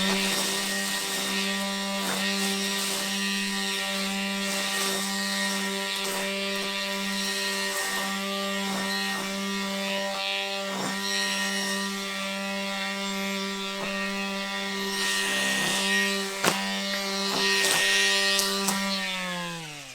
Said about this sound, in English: So let's go get that mow done.